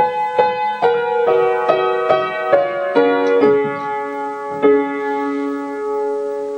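A piano plays a phrase from a piece from Twilight, a handful of clear, separate notes and chords struck in a slow rhythm, each left to ring and fade, close and alone with no voices.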